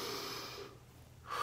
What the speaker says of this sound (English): really take a moment to take a deep breath